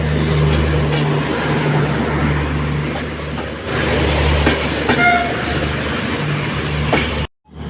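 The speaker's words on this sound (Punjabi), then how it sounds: "ਆਪ ਦੇ ਸਾਮ ਗੱਡੀ ਆ ਚੁੱਕੀ ਹੈ ਜੀ ਲਾਲਗੜ੍ਹ ਤੋਂ ਚੱਲ ਕੇ ਦਿਬਗੜ੍ਹ ਨੂੰ ਜਾਣ ਵਾਲੀ" A passenger train from Lalgarh bound for Dibrugarh rolls into a railway station at night, a loud, close rumble of wheels and carriages with a brief horn, continuing steadily until it suddenly cuts off near the end.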